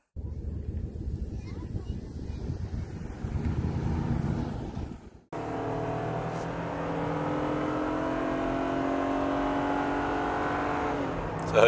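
A Jeep Gladiator engine strains while towing a heavy trailer onto a 55 mph four-lane highway, droning loudly and steadily inside the cab after a brief break, with a voice talking over the first part.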